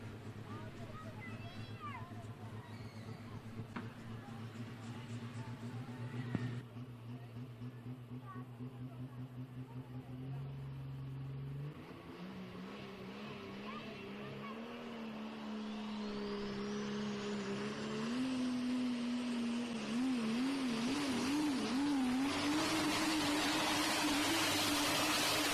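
Super Stock diesel Dodge Ram truck, the Rock Hard Ram, on a pulling run at a Pro Pulling event: a deep droning engine climbing in pitch and loudness as it revs harder down the track, with an announcer talking over it.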